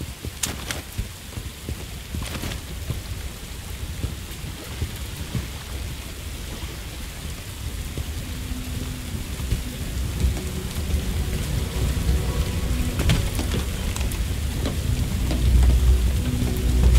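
Steady rain pours down while rumbling thunder rolls in and builds toward the end, with sharp cracks early on, in the video game Bright Memory Infinite.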